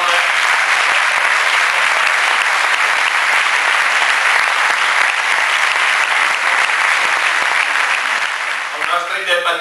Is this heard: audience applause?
yes